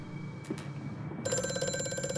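Old-fashioned telephone bell ringing in the horror video game Amnesia: A Machine for Pigs, a sustained metallic trill starting midway, moderately loud over a low ambient rumble.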